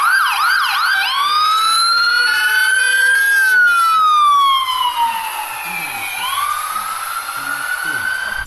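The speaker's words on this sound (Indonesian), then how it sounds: "Wow, lihat teman-teman, di sini ada truk damkar." A fire truck siren wails loudly and close by, starting with a few rapid yelps and then settling into long rising and falling sweeps that hold steady to the end.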